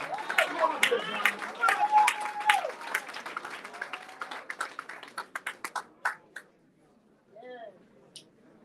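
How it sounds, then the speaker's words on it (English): An audience at a library gathering claps for the librarian, a dense burst of applause with a few cheers that thins into scattered claps and fades out. "Let's give a round of applause to the librarian"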